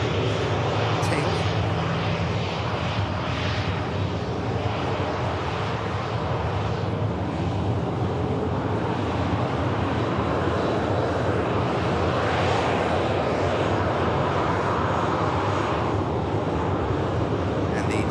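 Norwegian airliner with a UNICEF tail arriving at an airport, a continuous broad engine roar with wind rumble, steady and fairly loud throughout.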